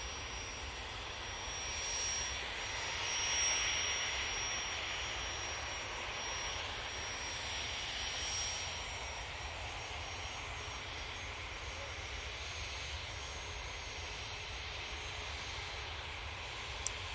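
An Embraer Praetor business jet roars steadily on its takeoff run, a broad sustained engine rush that swells slightly early on and then holds at a distance, with no voices.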